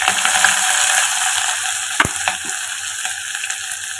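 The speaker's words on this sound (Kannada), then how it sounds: "ಇದೆಲ್ಲ ಫ್ರೈ ಮಾಡ್ಕೊಳ್ಳೋಣ" Ginger, green chillies and onion frying in a pan, with fennel seeds in the oil, a loud, steady sizzle with a single sharp scrape or knock midway and a few lighter stirring clicks after.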